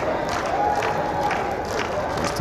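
A bowling crowd at the PBA World Series of Bowling Shark Championship roars and cheers in a steady, dense wash of voices that holds throughout without a break.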